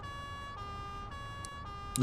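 Police car sirens in the video game Driv3r during a beach chase, a steady wailing tone with harmonics holding across the clip alongside game music, with a sharp noise burst at the end.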